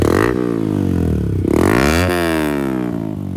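A Yamaha MT15 motorcycle fitted with a new aftermarket exhaust, its dB killer removed, revs loudly near the microphone. The raw throbbing engine note rises and falls in several short blips.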